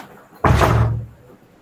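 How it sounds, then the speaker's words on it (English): A door slams shut in a single loud, close thud with a brief rumbling decay, during an online psychology class at home, with no talk over it. "Close the door."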